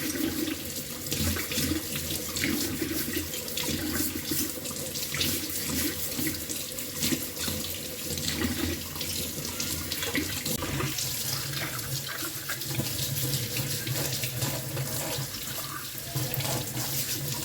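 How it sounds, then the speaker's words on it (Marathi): A new stone mortar and pestle is rinsed under a running sink tap, with steady water streaming and splashing against stone in a basin throughout, close and continuous with no talking. "आधी डायरेक्ट मी आता बेसिनमध्येच खलबत्ता आपला धुवून घेणार आहे।"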